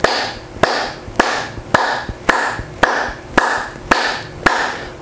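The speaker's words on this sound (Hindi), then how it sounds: "1 मिनट के लिए आप हल्की हल्की ताली बजाएंगे।" Gentle hand clapping done as a health exercise: nine soft, evenly spaced claps about half a second apart, close and clear, with no talk.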